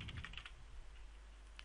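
Rapid keystrokes on a computer keyboard during an Ubuntu Server command-line session come in a quick burst at the start, then a pause with a single key tap at the end, close and fairly quiet.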